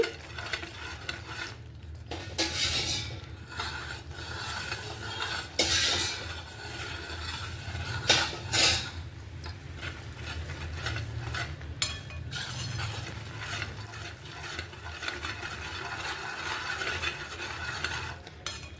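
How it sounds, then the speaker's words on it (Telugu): Mysore pak mixture being stirred steadily in a pan, a continuous scraping and swishing with faint sizzling of oil and occasional light metallic clinks, close and moderately loud with no talk. "ఇదంతా బాగా దగ్గరగా వచ్చే వరకు ఇలా కలుపుకుంటూ ఉండాలి."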